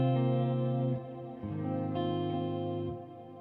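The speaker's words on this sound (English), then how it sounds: "we just have a delay and reverb in there for now" Sustained guitar chords pass through a delay and reverb before a volume pedal, ringing harmonically rich with swells and dips in level as the trails fade and build, no talking.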